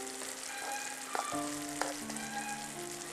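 Turmeric and chili powder, a Kashmiri and plain chili mix, sizzle steadily in hot oil with lemon pieces while being stirred, with a few sharp clinks of the spoon against the pan and no talk.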